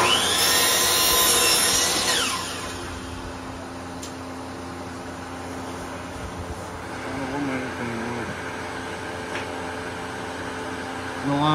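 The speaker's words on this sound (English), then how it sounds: "I'm going to cut these boards for the trim" A power saw cuts wooden trim boards at a 45 degree angle, a loud high whine for about two seconds that winds down into a quieter hum, with a voice talking afterward.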